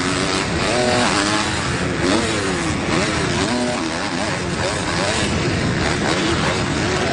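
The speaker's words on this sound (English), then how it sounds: "You can really hear Hill working that throttle." A supercross motorcycle engine roars throughout, revving up and down as the throttle is worked during the Daytona 250 main event race, loud and continuous with a crowd-and-track wash behind it.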